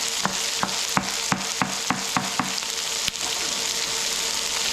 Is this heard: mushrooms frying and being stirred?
yes